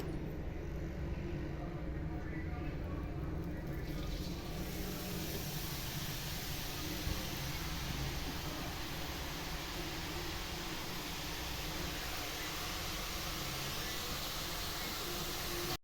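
Omapodi dough frying in hot oil over medium heat, a steady, even bubbling sizzle that stays constant throughout.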